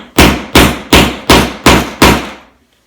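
Hammer whacking a metal grommet punch set onto fabric for a Roman shade, six sharp, evenly spaced loud strikes with short ringing decay, heard alone.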